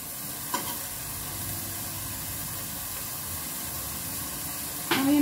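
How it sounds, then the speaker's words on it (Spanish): Half an onion and a spoonful of another ingredient fry in a little oil, a continuous soft sizzle with a utensil tap near the start and a louder clatter at the end. "Comenzaremos la preparación poniendo a dorar en un poquito de aceite una cucharada de pion"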